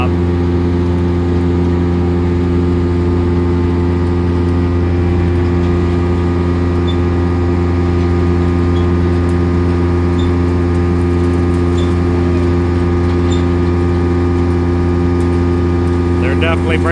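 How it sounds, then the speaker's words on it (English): Farm tractor pulling a loaded chopped-corn cart up to the silos, a loud, steady droning engine close by that holds an even pitch with no breaks. "Tractor and Sally's cart pulling up"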